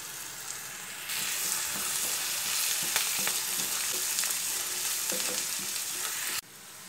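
Sliced onions with curry leaves and turmeric sizzle loudly in a hot pan, a steady hiss that swells in after a second with occasional stirring scrapes before cutting off.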